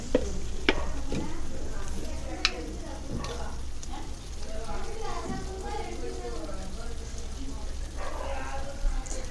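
Onions fry in a pan for egg curry as coriander powder is stirred in, giving a continuous soft sizzle under repeated clicks and scrapes of a spoon against the pan, with faint speech in the background.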